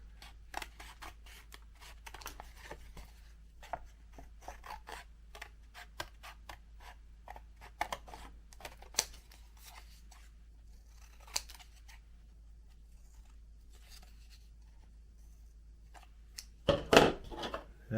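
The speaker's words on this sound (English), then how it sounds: "I have these little curved scissors." Small curved scissors snip a part of a 1972–1982 Centuri Vulcan model rocket, a string of quiet, close, crisp clicks and cuts at an irregular pace, ending in a brief louder rustle.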